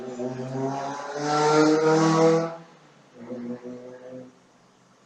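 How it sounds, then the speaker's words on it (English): A car speeds down a street at around 50 miles an hour, its engine roar and tire hiss swelling loudly as it passes close by, then fading away, followed by a second fainter vehicle passing. "Somebody driving down the street 50 miles an hour"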